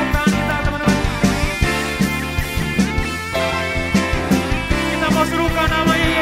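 A congregation at a church worship service claps hands together in a steady rhythm, sharp repeated claps set against loud, continuous worship music.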